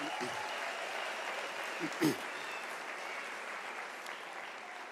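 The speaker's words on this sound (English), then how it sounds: "Can we give our round of applause to our parents?" A large audience at a university graduation ceremony applauds the graduates' parents, a soft, steady wash of distant clapping with a couple of faint voices.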